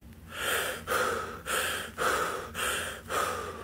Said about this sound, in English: I'm still able to breathe even when I'm breathing very deeply